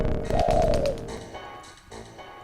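Pigeons in the video game Jazzpunk give a short, clear burbling coo up close, followed by fainter game noises and rustles.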